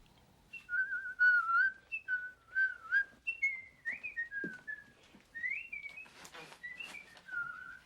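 A man whistles a lively, wavering tune alone, each note sliding and bending in quick phrases, fairly close and clear, with a brief muffled thump partway through and no talking.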